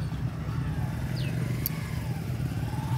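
A motorcycle engine idles with a steady, low rumble that holds constant throughout, close by and fairly loud.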